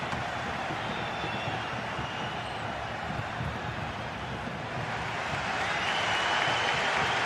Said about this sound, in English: the crowd is certainly trying to motivate the team to push them forward to get the equaliser